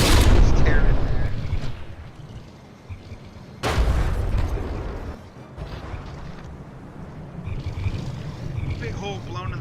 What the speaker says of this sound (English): The explosion is going to just tear in there.